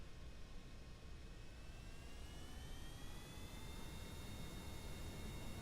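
An aircraft engine in Kerbal Space Program throttles up as a steady, loud jet roar with slowly rising whine tones, continuous and unbroken, no voices present.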